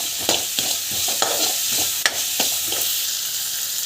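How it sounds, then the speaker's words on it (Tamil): Grated coconut and cumin sauté in a hot pan with a steady broadband sizzle, broken by repeated sharp scrapes and clicks of a spoon stirring against the metal at an uneven rhythm, close and fairly loud, no voices. "தேங்காய் ஆட் பண்ணிட்டு நல்லா வந்து வதங்கிடும்"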